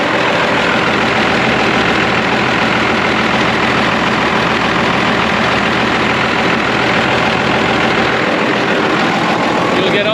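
A Ford P15 4x4 truck engine idles while warming up, a loud, steady, close rumble that runs throughout with no breaks.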